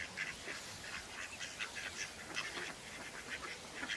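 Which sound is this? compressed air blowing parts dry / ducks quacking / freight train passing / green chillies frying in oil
ducks quacking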